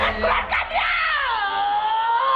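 A girl screams during an exorcism, a loud, sustained high-pitched wail with wavering pitch that rises sharply, then holds, for a couple of seconds with no speech.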